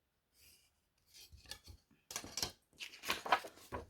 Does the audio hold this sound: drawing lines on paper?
yes